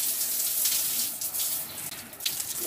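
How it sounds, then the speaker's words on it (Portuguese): A shower runs as hair is washed, a steady hissing spray of water with a few splashy bursts where it strikes hair and body, close and continuous. "agora eu vou lavar meu cabelo. Tem que levantar o pé, sabe, pra ligar o chuveiro."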